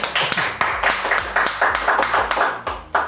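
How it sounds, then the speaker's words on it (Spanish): A small group claps to welcome a guest on a podcast recording, giving loose, uneven rhythmic claps with sharp individual slaps close to the microphone, alone without speech. "yo pido un gran aplauso"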